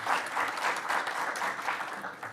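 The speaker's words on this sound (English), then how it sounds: "Let's give a round of applause for you guys." An audience at a school board meeting claps steadily, a dense wash of hand claps holding even throughout without talk.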